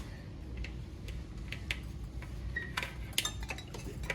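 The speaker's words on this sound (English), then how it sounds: "We're blending these two together until they're well mixed." Brown sugar being blended with another ingredient in a bowl for homemade chocolate chip cookies, giving faint scattered taps and light clinks of a utensil against the bowl over a low steady background hum.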